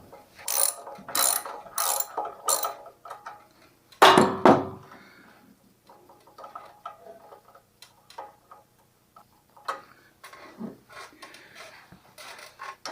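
Socket ratchet clicking in quick bursts while loosening a spark plug on a Champion generator, sharp close ticks, a heavy clunk, then sparse fainter clicks and scrapes.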